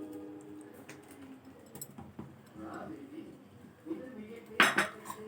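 A spoon scrapes and clinks against a pan while condensed milk with almond flakes is stirred as it thickens for a soft eggless malai cake, quiet metallic taps under faint kitchen background, with a louder clatter near the end.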